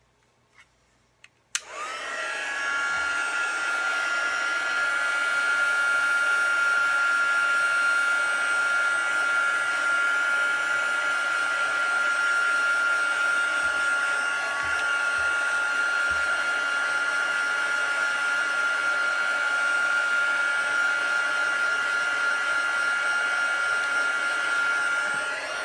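A craft heat tool blows hot air over a stamped card, switching on abruptly and then roaring steadily at close range as one continuous whooshing drone.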